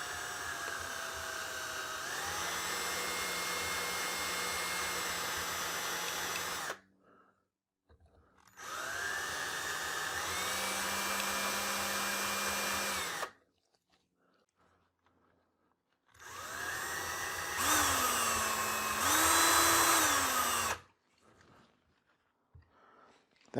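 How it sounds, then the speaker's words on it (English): A power drill bores out the rivet of a Hot Wheels toy car in three sustained whirring bursts, each several seconds long with a brief pitch rise at the start, separated by short silences. "I have a drill bit that's a little bit smaller than the hole."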